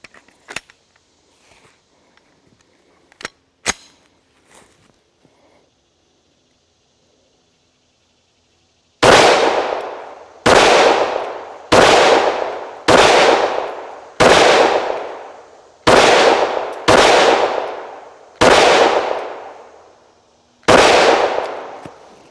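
A Glock pistol fitted with a CAA MCK micro conversion kit and a red dot reflex sight fires at an outdoor range: after a few faint clicks, eight loud, sharp shots ring out one at a time, each trailing a decaying echo.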